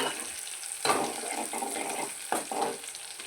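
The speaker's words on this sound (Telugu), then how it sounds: "ఉల్లిపాయ బాగా ఎర్రగా వేగనివ్వాలి" Onions sizzle in hot oil with cumin and mustard seeds for a gourd dal tempering, a soft steady frying hiss broken by a few brief louder bursts as a spoon stirs the pan, close and without talk.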